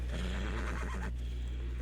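A horse in the video game Red Dead Redemption 2 neighs once, a close, clear whinny lasting about a second over a steady low hum, then fading into quiet.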